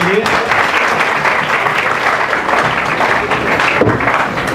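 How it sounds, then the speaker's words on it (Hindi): Audience at a college seminar on animation breaking into steady, enthusiastic applause, a dense wash of clapping hands sustained evenly throughout at close range. "एक बार सर के लिए भी जोरदार तालियां बजा दीजिए।"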